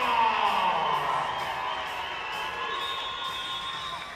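Football crowd at an indoor arena game cheering and shouting together, a loud continuous roar with whoops that slowly eases but stays full throughout.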